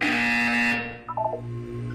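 A loud, harsh electronic buzzer from the Portal 2 video game blares steadily for under a second, then cuts off into a few short fading tonal blips.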